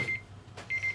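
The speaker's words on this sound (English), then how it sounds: "That's my alarm telling me that I'm supposed to stop speaking." An electronic alarm gives a high, steady beep in two short bursts separated by a brief pause, heard indoors during a talk.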